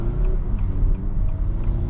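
A 2024 Acura RDX A-Spec Advance accelerating, its engine note a steady low rumble with faint rising tones heard from inside the cabin, no voices.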